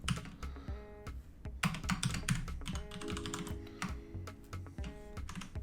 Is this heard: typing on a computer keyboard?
yes